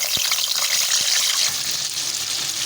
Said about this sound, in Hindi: अब हम इसको हल्का हल्का फ्राई करेंगे।